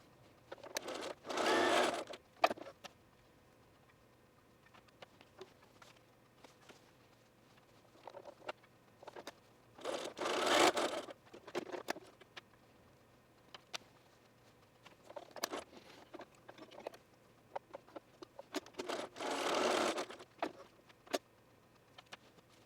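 A sewing machine stitches darts in knit fabric in three distinct bursts, each a couple of seconds of rapid mechanical whirring, with quiet handling and small clicks between them.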